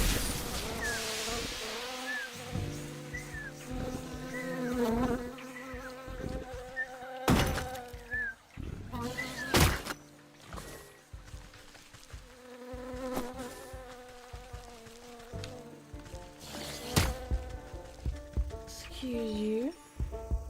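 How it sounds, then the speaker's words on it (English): Buzzing swarm insects in the Wytchwood video game, droning steadily under whooshing attack hits and game effects, with a clear layered hum throughout and occasional sharper strikes. "Now to attack insects."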